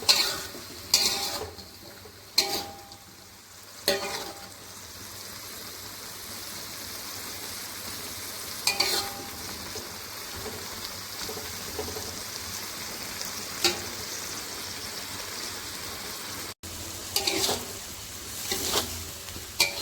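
Stir-fried tempe and long beans being stirred in a pan: a steady sizzling hiss with scraping stirring strokes that come and go in bursts.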